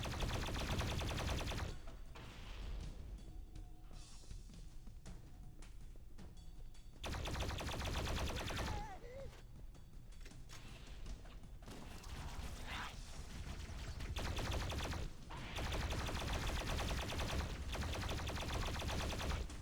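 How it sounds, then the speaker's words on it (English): Heavy automatic gunfire in the Halo video game, with loud sustained bursts of rapid shots that break off into brief lulls holding scattered mechanical clicks before the firing resumes. "Taking heavy fire."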